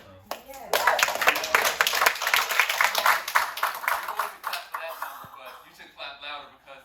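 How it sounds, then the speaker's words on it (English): An audience at a graduation-style event breaks into applause, a dense burst of clapping that peaks early and then tapers unevenly, with voices and cheering mixed in toward the end. "Clap louder because that number is always increasing."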